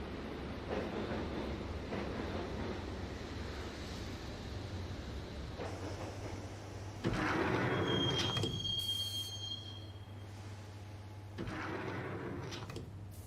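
A train in the video game Max Payne rolls along with a steady rumble, then brakes squeal in a high, thin whine before the noise settles again; no one speaks.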